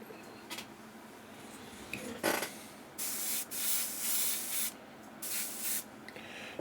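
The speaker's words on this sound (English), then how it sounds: "That's how I start spraying right there" Short bursts of airbrush spray paint skin tones onto a 3D-printed Willy Wonka figure, several close hissing pulses of varying length separated by brief pauses, after some quieter rubbing and handling noises.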